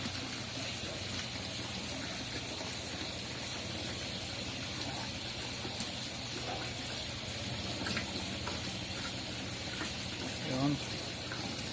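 Water running into a crayfish pond splashes steadily at low level, a continuous gentle gushing with faint background sounds.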